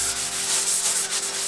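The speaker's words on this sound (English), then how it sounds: "take a rag and some mineral spirits, paint thinner, and wipe the panel down with that" Steady rag wiping a wooden cabinet door panel with mineral spirits, a continuous soft swishing wipe with slight rhythmic pulses, close up and alone.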